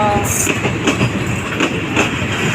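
A GEA diesel locomotive, number 4538, hauls train 445 into Surat Thani station, making a steady rumbling roll with periodic rail clatter and brief bright squeals, close and continuous for the whole stretch.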